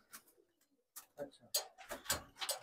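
Pigeons cooing inside a loft with young birds, soft throaty coos in irregular bursts, close and fairly quiet, with a voice briefly talking among them.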